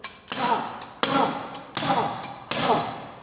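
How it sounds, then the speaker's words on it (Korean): A wrench strikes a safety shoe four times at a steady pace, each blow a loud, sharp close-up crack followed by a brief rattling tail. "이거 렌치 갖다 찍어봐"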